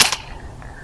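One sharp airsoft shot fires 0.2 gram BBs through a chronograph, a crisp close crack that fades quickly into quiet room tone.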